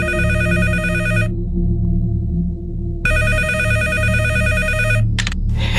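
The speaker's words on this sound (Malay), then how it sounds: "Saya telefon jiran saya, Cik Nah." A telephone rings loudly and close, one long electronic trill burst, a pause, then a second burst that cuts off abruptly.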